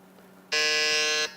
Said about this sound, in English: going on the buzzer is Navajyot Sajid Kumar.